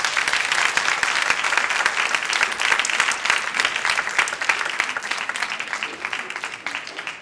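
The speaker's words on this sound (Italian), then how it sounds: "cerchiamo di fare dei grandi applausi ai ragazzi che si stanno per esibire" Audience applause for young performers at a stage show, dense sustained clapping from a crowd that fades slightly toward the end.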